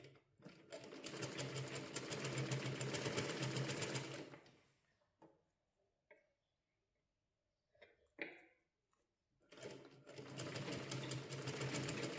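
Sewing machine stitching piping onto a katori blouse, heard as two close, steady runs of rapid mechanical whirring separated by a quiet pause with a few small clicks and handling sounds; no talk.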